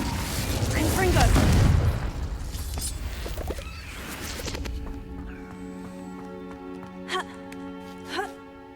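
A Confringo fire spell blast in the video game Hogwarts Legacy erupts as a loud, low booming burst early on, then fades into quieter in-game ambience with sustained musical tones and a couple of faint later thuds.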